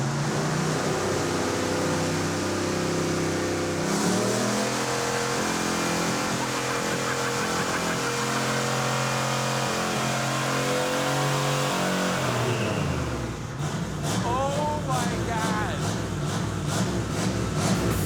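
Chevrolet Monte Carlo engine running loud and steady at close range, rising through a strong revving surge, then dropping as a different rhythmic mechanical note takes over near the end.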